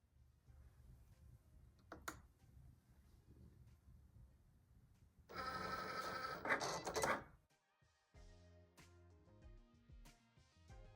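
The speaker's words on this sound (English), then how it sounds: "So the Cricut took 36 minutes to cut the outline" A Cricut Explore Air 2 cutting machine cutting a rhinestone template: quiet mechanical whirring and ticking, then a louder burst of carriage buzzing and clicks, followed by stepped motor tones.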